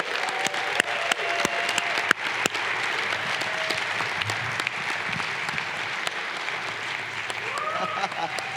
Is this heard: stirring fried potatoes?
no